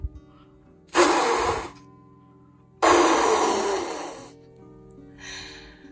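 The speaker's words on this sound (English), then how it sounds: "Deep belly breath in and" Two long, loud breaths drawn in and pushed out during a deep belly-breathing exercise, each a broad rushing whoosh, with a fainter third breath trailing at the end; no talk.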